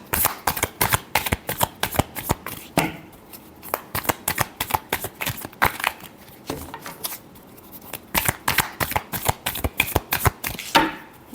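Playing cards are shuffled repeatedly, with crisp riffling bursts in quick rhythmic clusters and short pauses between them, close and fairly loud, with no talking.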